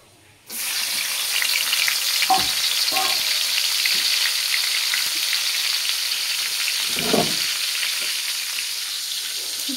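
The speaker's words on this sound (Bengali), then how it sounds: "আমি এখন নাপা শাক তেলে দিব। শুধু রসুন দিয়ে দিব।" Napa greens frying in hot oil with garlic, a loud, steady hiss of sizzling that starts abruptly and holds for several seconds, with a few faint knocks and stirs underneath.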